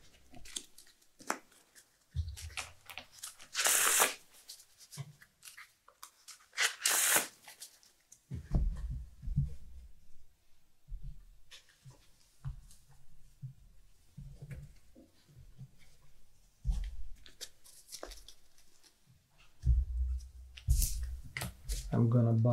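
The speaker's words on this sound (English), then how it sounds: "Alright, I'm gonna shuffle my deck." A deck of Flesh and Blood trading cards is shuffled by hand at a gaming table, with short bursts of riffling and flicking cards separated by pauses and soft handling noises. Someone talks between the bursts.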